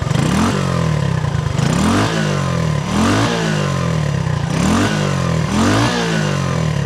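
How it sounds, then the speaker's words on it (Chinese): An SM Sport 110e motorcycle with a 110cc single-cylinder engine runs close by, revving up and dropping back in a steady repeating cycle about every second and a half, with a light, buzzy, clattering tone and no talk. "我们听一下它的引擎声哦，110cc 单缸的引擎声是怎样？"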